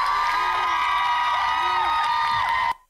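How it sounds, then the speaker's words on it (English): A live concert crowd cheers and screams loudly and continuously, a dense roar of voices with whoops rising over it before cutting off abruptly at the end. "Listen to that crowd."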